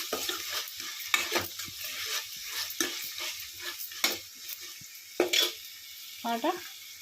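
Biryani ingredients frying in a pan while being stirred: irregular scraping strokes and clatter over a soft sizzle, close by, with brief quiet gaps and a faint voice near the end.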